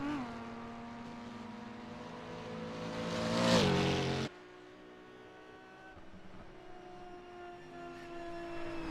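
Race cars tearing past on the Isle of Man time trial road course, one loud engine screaming closer with rising pitch then cutting away abruptly, followed by another car's engine droning further off.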